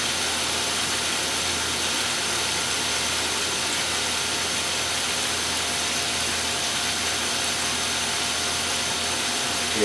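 Wort pump running steadily during a stout brew day, a constant close mechanical whir with a faint hum, unbroken for the full stretch with no talk.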